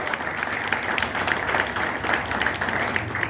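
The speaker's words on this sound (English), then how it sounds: "Let's give Dee Dee a round of applause" Audience applause at a vintage rockabilly fashion show in Ohio, a steady dense round of clapping from a crowd held at an even level throughout, with no break.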